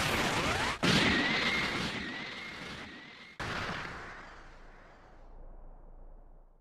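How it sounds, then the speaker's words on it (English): Special Beam Cannon blast in the Dragon Ball fighting game Sparking Zero: a loud crashing burst, a sustained whining energy beam with a second sharp impact, then a fading rumbling tail. "Special Beam Cannon!"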